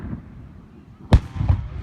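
Fourth of July fireworks burst outdoors, one sharp, loud boom followed by a softer second pop and rumbling echo, heard from a distance over quiet background noise.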